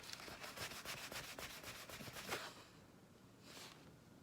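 A fingertip rubs quickly back and forth over a painted Christmas ornament, giving a close, soft, rapid scratchy rasp for about two seconds, then a quieter pause and one brief rub near the end.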